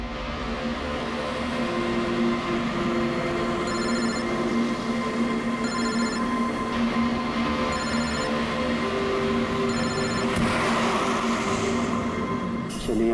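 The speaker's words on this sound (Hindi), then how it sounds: "कब से लैंडलाइन पे फोन कर रहा हूँ सर, फोन ही नहीं उठा रहे" A landline telephone rings in evenly spaced electronic trills, four bursts about two seconds apart, over a dense steady background of dramatic music and rumble.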